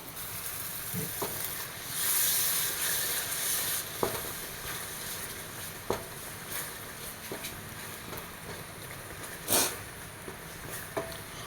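A pan sizzles steadily as thick coconut milk pours in, swelling louder for a moment, with occasional scraping stirs and soft knocks, while cooking a meatless biryani.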